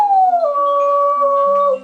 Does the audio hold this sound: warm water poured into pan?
no